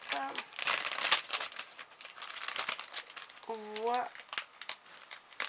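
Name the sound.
plastic sachet crinkling while being handled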